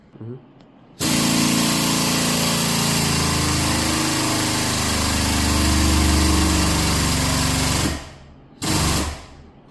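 A hydraulic frame straightening rig pulls the frame rail of a damaged car imported from the USA, a loud steady mechanical drone running several seconds, then cutting out and briefly restarting.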